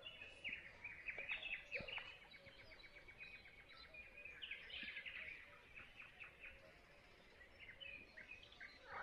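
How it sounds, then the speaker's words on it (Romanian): Birds sing and chirp continuously at a wild lake, with several overlapping high calls and trills at moderate distance over quiet outdoor ambience. "Au venit mă păsările până la urmă."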